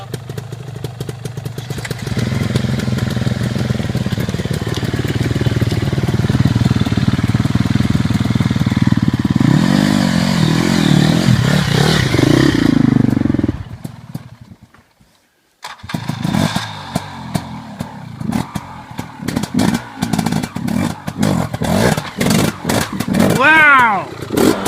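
KTM Freeride 250R two-stroke dirt bike revving and riding close by, a loud sustained buzz that rises in pitch, cuts out briefly, then returns in choppy bursts, with voices in the background.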